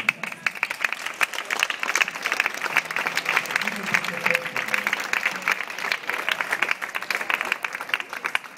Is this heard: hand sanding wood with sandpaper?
no